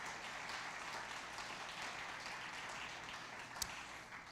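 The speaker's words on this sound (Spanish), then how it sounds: "dale un aplauso a Dios" A church congregation gives a faint, distant round of applause, a steady soft wash of clapping with one sharp tap near the end.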